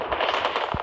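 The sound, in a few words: gunfire in a first-person shooter video game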